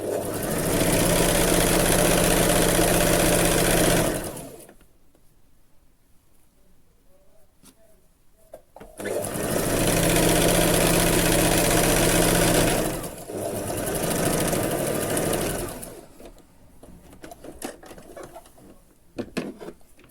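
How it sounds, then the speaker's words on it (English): A sewing machine stitching a seam that joins a dress front and back runs in two long, loud, steady bursts, separated and followed by quieter pauses with handling clatter. "I'm going to join front side and the back side together and make a seam."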